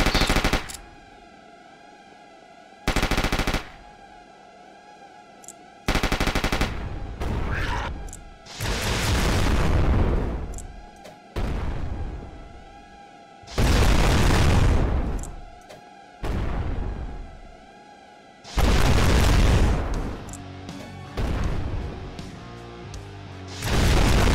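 Grenade blasts in the shooter game Project Warlock, set in Hell: about eight loud, booming bursts, each decaying before the next, separated by quieter stretches of background game noise.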